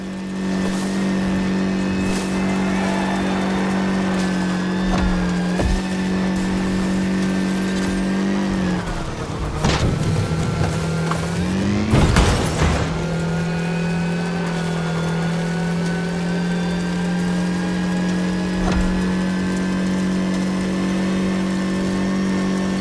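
An Audi rally car with reworked shock absorbers and chassis drives a rally course, its engine holding a loud steady drone, dipping and surging near the middle, with bumps and thuds.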